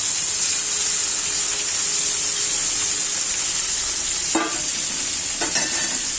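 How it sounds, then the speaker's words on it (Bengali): Water is poured from one side into spiced masala of mustard, cinnamon, dried chilli, onion and cloves for a kalibaus fish curry, giving a steady loud sizzle with a couple of short splashy bursts near the end. "এটা আর ভাজবো না, আমি পানি দিয়ে দিচ্ছি এক সাইড থেকে।"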